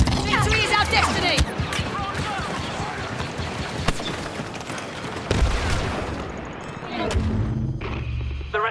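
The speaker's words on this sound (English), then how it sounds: "Launching grenade!" Sci-fi battle on a desert planet in a video game: dense overlapping gunfire and blasts with sharp bursts near 1.5, 5.3 and 7 seconds, under shouting voices and game effects, loud and continuous.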